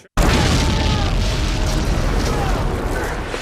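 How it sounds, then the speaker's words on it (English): Film explosion effect of gasoline going up, a loud sudden boom that bursts in after a brief silence and then rolls on as a sustained, roaring blast with crackling debris for several seconds. "a gasoline explosion goes kablooey, and the gasoline flies through the air"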